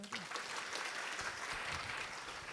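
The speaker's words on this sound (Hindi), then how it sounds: "अब इन दोनों के लिए ताली तो बजा दो" Quiet applause from schoolchildren in a school gathering, soft continuous clapping with some voices mixed in.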